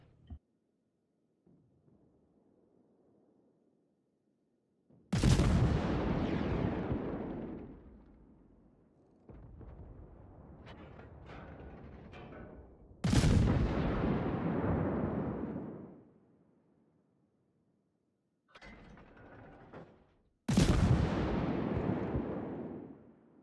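Heavy naval guns fire high-explosive shells in World of Warships: four booming salvos roughly every few seconds, each a sharp loud blast rolling into a long rumbling decay, with softer distant thuds and quiet lulls between.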